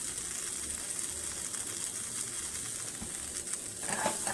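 A corn tortilla frying in a hot pan while entomatadas are being made, giving a steady low sizzle and crackle with no talk.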